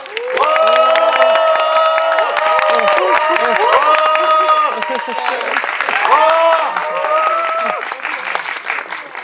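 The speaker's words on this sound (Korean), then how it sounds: "다시 한번 뜨거운 박수 부탁드리겠습니다." A cinema audience at a CGV theater stage greeting in Yongsan cheers and applauds loudly and continuously, with whoops and excited voices rising over the clapping.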